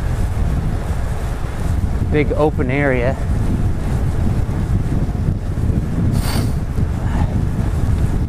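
Steady, loud wind buffets the microphone on an open levee trail in chilly weather during a bike ride, a continuous low roar that covers the whole stretch while someone speaks briefly.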